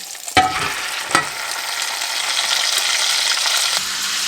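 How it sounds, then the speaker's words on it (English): Meat frying in a pan, a steady close crackling sizzle that builds slightly over a few seconds, broken early by two sharp clinks of cookware, with no talking. "while my meat's cooking and the rest of the stuff's finishing up"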